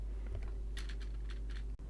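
Several quick, light keystrokes on a computer keyboard as a command is entered in the DFHack tool for Dwarf Fortress, close and clear over a low steady hum, with no talking.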